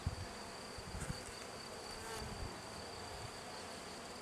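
Honeybees at a hive buzz in a faint, steady, continuous drone during queen introduction, with a few soft knocks near the start and no talking.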